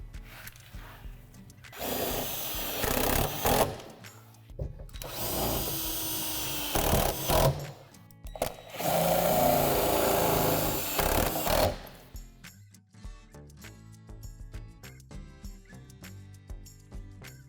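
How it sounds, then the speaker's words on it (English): A power drill drives self-tapping screws into a plastic Lifetime playhouse wall panel, whirring in three sustained bursts with brief pauses, then quieter clicking and handling sounds. "secure through the divots with the self-tapping screw"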